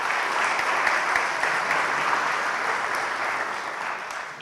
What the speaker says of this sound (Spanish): Pido para ellos, por favor, un aplauso por su persistencia